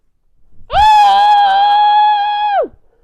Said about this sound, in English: they may be a little distressed at the fact that you're actually screaming into a pillow